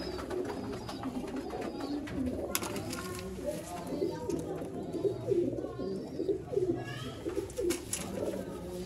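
Several Ferozpuri pigeons coo softly and continuously nearby, overlapping low throaty calls with occasional wing flutters and faint background noise.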